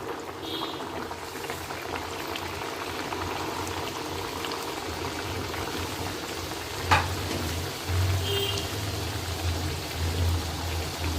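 Mung dal khasta kachori frying in hot oil, a steady close crackling sizzle running throughout with a couple of sharper pops and a low bubbling hum, no talk.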